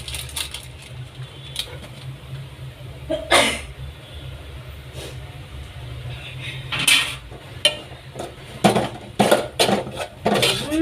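Pepper chicken being stirred in a pot, with scattered clinks and scrapes of a spoon against the metal at irregular intervals, close and moderately loud over a steady low background.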